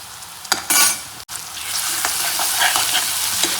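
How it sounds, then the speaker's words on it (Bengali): Ginger garlic paste hits hot oil in a pan while cooking chole bhature, bursting into a loud sizzle with scraping stirs of a spoon, a brief clack, then a steady frying hiss continuing close up. "ও তখন দিয়ে দিলাম আদা রসুনের পেস্ট"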